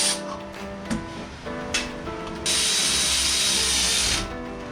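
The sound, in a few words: ratchet tool tightening a BMW E61 M5 gearbox part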